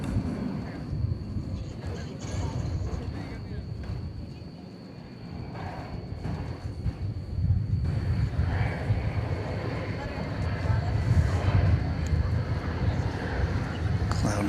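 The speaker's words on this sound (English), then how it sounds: "And that'll be followed by American Airlines Flight 2073 from San Diego. Here on Runway DFW" An American Airlines jet on the runway at DFW Airport, a steady low engine rumble that swells louder in the second half, with talk heard over it.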